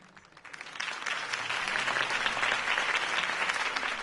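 Video game crowd applause swells after a quiet start and holds steady as a dense, continuous roar of clapping.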